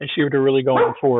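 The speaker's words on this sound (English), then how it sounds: "excuse my dog's barking" A dog barks in short, loud yips and bow-wows across the whole moment, overlapping a person talking nearby.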